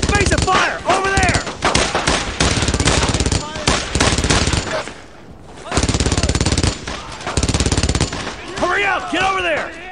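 Sustained automatic gunfire in the Brothers in Arms World War II shooter pounds in long, loud machine-gun bursts broken by short pauses, with shouting voices mixed in near the start and end.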